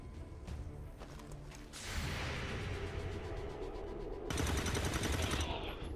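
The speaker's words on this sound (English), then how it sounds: "because my people are in Overwatch, they will fire back" Rapid automatic gunfire from soldiers on Overwatch in the video game XCOM 2, loud sustained bursts of shots with whooshing effects, intensifying toward the end over a steady game backdrop.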